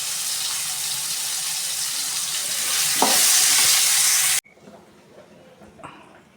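Jackfruit seed fry in a pan gives off a steady, close hissing sizzle that swells slightly louder, then cuts off abruptly, leaving faint room noise.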